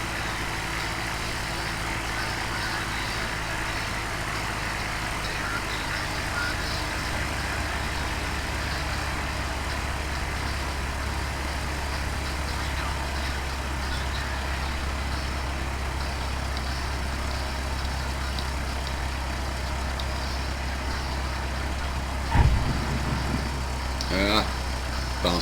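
Cessna 172 light aircraft engine on landing approach with the throttle eased back, a steady low drone with broadband cabin roar throughout, ending in a brief thump and rattle near the end as the wheels touch down.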